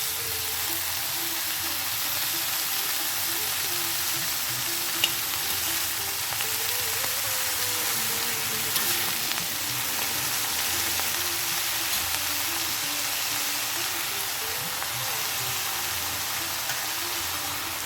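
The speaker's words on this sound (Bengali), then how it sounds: "আর নাড়তে থাকবো।" Bathua greens fry in a pan with a steady, even hiss of sizzling that runs unbroken throughout, with faint stirring beneath and no talking.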